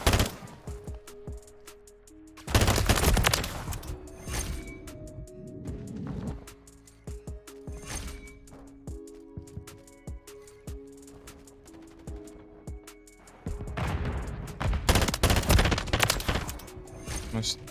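Bursts of FR 556 rifle fire in Call of Duty MW3, loud close volleys of rapid shots in two heavy clusters, separated by a stretch of scattered gunfire and game sounds.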